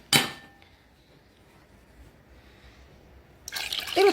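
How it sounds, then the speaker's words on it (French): Lukewarm water poured from a bowl into baghrir crepe batter, a brief splashing pour at the start, quiet kitchen background, then another louder splash and clatter near the end. "on va envoyer les 3 bols d'eau tiède"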